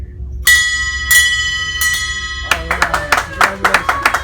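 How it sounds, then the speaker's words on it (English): A handheld bell rings loudly three times to mark the end of six weeks of radiation treatment, each strike leaving a long metallic tone, then a burst of applause and cheering follows. "I get to ring the bell."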